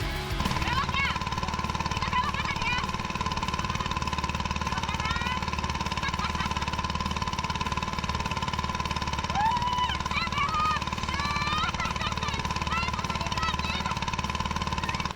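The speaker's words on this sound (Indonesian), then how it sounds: "rasanya katingting ini melaju cukup kencang dan cukup sulit untuk mengendalikannya." A ketinting racing boat engine roars steadily at speed in Bolaang Mongondow, a loud continuous hammering drone close by that stays unbroken throughout, with faint whistles and calls in the background.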